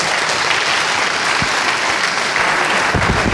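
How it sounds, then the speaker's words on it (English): Steady, loud applause from a conference audience at FOSDEM, cheering on a sound technician, dense clapping filling the whole stretch without a break. "Applause!"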